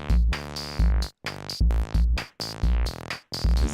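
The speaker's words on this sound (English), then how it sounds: "Is that a drum machine?" Drum machine in an 80s-style song, loud punchy electronic kick and snare hits in a steady repeating pattern with sustained synth tones, no talking over it.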